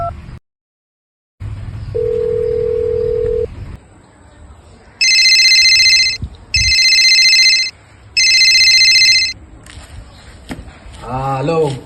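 A telephone rings in three evenly spaced electronic bursts, loud and close, after a short steady tone, with a voice starting to speak just afterward.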